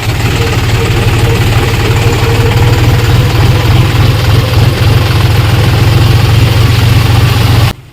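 A tractor engine idles with a steady low rumble and vibration, running continuously up close in a rain-soaked field before cutting off abruptly at the end.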